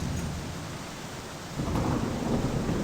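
Thunderstorm in the Cafemart Simulator video game, a steady wash of rain with deep thunder rumbling up and swelling louder halfway through, with no voices over it.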